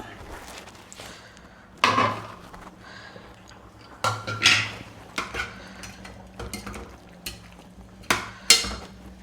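Lid lifted off a steaming pot of simmering mutton stew in a home kitchen, a few clanking metal knocks and scrapes of pot and lid, close and moderately loud, with no talk.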